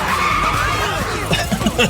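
Tires screech in a long, loud skid as a car slides in a GTA video game, a continuous squealing wail with rising and falling pitch sweeps and clattering bursts near the end.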